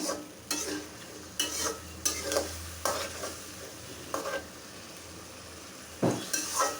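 Spice paste with tomato stir-fried for rita fish bhuna, a spatula scraping the pan in regular rhythmic strokes over a steady close sizzle.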